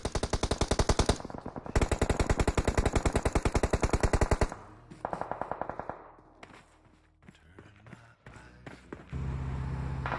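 Gunfire from a video game tournament match: rapid automatic bursts of close, loud shots in long strings, then scattered single shots and engine rumble, ending with another burst.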